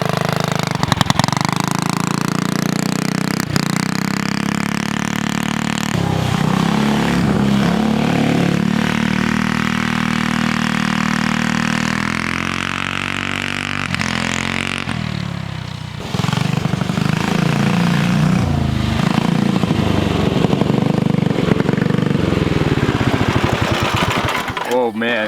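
A Go Powersports MB-200 minibike with a stage 4 Tillotson engine runs flat out in a steady buzzing drone, pitch rising and dipping as it rides, close and loud, with occasional speech.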